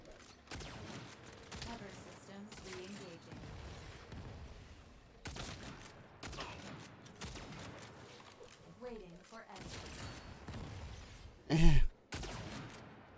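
Gunfire from a gun in the 2022 Saints Row video game, heard as scattered shots and bursts through a busy game mix, with a louder blast near the end and a voice talking over the action.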